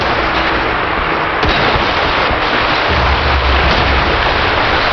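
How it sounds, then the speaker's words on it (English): Grenade launcher blasts and gunfire in the America's Army: True Soldiers game, with dense loud continuous firing and booming explosions overlapping throughout. "Oh, I got that guy perfectly with the grenade launcher."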